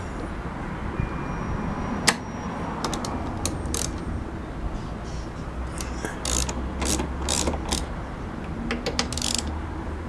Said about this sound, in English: then undo the bolts